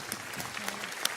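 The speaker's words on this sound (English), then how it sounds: "Another round of applause for our panelists" An audience at a panel session claps for the panelists in a short, fairly quiet burst of dense, even applause with no break.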